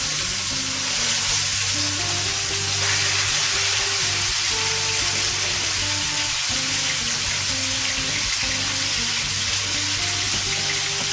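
Beef searing in a hot mix of bacon grease and olive oil, a loud, steady, dense sizzle that continues without a break, with no talking.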